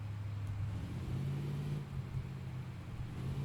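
A car in the Parking 3D video game drives with a steady, low engine drone and a slight rise and fall in pitch, continuous throughout.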